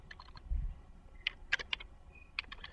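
Short bursts of keyboard clicks as a command is typed on a computer keyboard, a few quick separate groups of keystrokes, fairly faint against a quiet background with low rumble.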